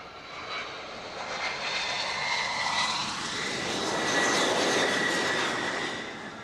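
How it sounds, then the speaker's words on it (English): Engines of a US Air Force Starlifter transport aircraft roar steadily at a distance, a broad continuous rumble that swells slightly as the plane passes, with no talking. "The US Air Force Starlifter."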